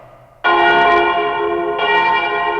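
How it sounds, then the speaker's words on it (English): Church-style bell chimes from the 1976 film The Omen, a loud resonant strike ringing out with long sustained tones, then a second strike layered over the fading first. "He answered with the bell chimes."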